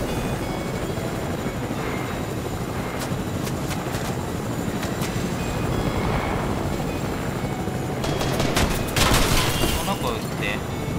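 Gunfire sounds in Fortnite as short bursts of sharp shots over a steady helicopter rotor drone, with a quieter cluster early on and a louder flurry near the end. Voices talk over it.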